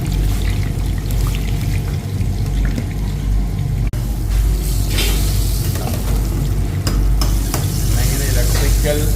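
Samosas bubble in a pan of boiling oil at a busy bakery, a loud continuous sizzle and fry that fills the whole clip over steady background noise, with no talk.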